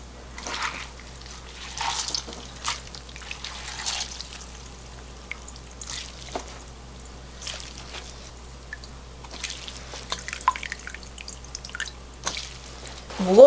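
Pickled cucumbers are squeezed by hand to wring out brine water, giving soft, close drips and trickles of liquid that come in uneven bursts with small squishy handling noises.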